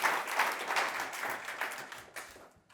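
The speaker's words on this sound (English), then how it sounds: "let's give Matt another round of applause" An audience applauds a speaker at a faith talk event; dense clapping starts strong, then tapers off toward the end with a few scattered final claps.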